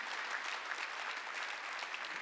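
A church congregation at a Wednesday worship service claps together in a brief, dense, fairly soft burst of applause that runs on steadily with no talking over it.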